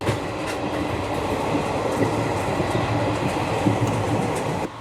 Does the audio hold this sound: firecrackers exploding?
no